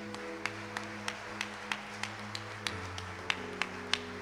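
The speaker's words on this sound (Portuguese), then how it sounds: "vamos aplaudir ao Senhor" A church congregation claps in a steady, evenly spaced rhythm while sustained organ or keyboard chords hold underneath, each clap sharp and distinct.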